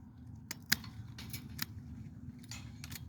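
Pruning shears snip a grapevine shoot during open pruning, giving a few short, crisp clicks close by, one sharper snap standing out over faint outdoor background.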